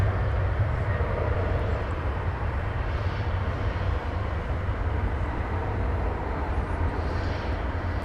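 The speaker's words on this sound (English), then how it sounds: "It looks like the A300 is getting ready to launch off to Ontario, California" An Airbus A300 takes off at night from DFW Airport, bound for Ontario, California, with a loud, steady engine roar throughout and no voices.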